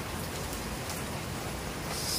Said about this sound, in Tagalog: sa drum ng aking mga pansahod ang ulan, gaya po niyan, at napupuno po ng patak ng ulan na yan